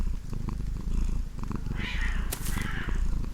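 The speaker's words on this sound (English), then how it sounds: "Stun you, release the cat." A cat purrs steadily in Battle Brothers, a low continuous rumble running the whole time, with brief brighter game effects layered over it near the end.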